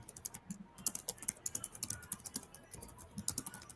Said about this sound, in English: You're typing very noisily again.